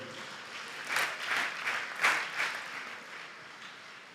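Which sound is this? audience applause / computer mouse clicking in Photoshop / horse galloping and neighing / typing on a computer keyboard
audience applause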